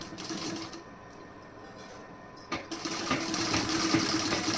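A sewing machine stitching fabric along a fold for garment piping or button placket work, a soft steady whirring that grows louder and busier midway, close up with no talk.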